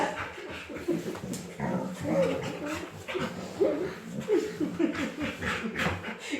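A dog whimpers and yips in short, restless bursts, with panting and snuffling close by, fairly loud and continuous.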